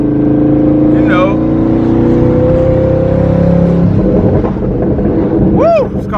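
Twin-turbo Ford Mustang Boss 302 engine, a loud, close, steady rumbling drone with a long droning note that drops near the four-second mark, over wind buffeting and a brief voice near the end.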